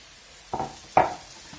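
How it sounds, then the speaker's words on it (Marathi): Okra being stir-fried with other vegetables in a pan, heard as two distinct scraping stirs over a faint sizzle, close and fairly quiet, with no talking. "आणि भेंडी पण त्याच्यामध्ये चांगली परतून घ्यायची"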